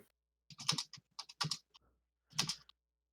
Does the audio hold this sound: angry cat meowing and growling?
no